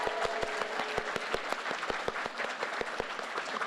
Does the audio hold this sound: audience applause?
yes